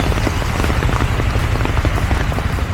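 Steady rain pours on surfaces along a crowded path toward a helipad at Varkala Papanasam, a dense, even patter of drops filling the short stretch with no voices.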